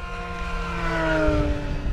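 An FMS de Havilland Beaver RC model plane with a 2000 mm wingspan makes a steady, rising motor drone as it flies by, growing louder through the pass with no talk over it.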